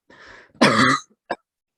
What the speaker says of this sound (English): Like just got a cough.